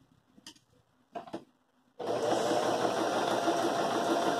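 A sewing machine stitching a fabric table runner with a hem band starts after two brief soft knocks, then runs steadily and loudly with a continuous whirring hum, no talk.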